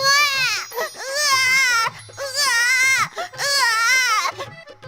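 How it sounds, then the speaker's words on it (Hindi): A newborn baby cries loud and close in three long, wailing bursts separated by brief gasping pauses. "तेज रोशनी के साथ बच्चे के रोने की आवाज सुनाई देने लगी"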